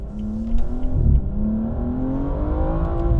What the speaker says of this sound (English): there's wheel spin